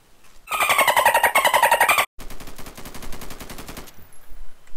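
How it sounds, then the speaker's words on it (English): Rapid automatic gunfire in the video game Garry's Mod, a loud sustained burst of machine-gun fire that cuts out briefly and then resumes as a denser, slightly softer stream of shots. "No, he's shooting at me, alright."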